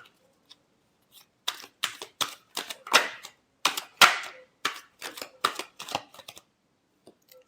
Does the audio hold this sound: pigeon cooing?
no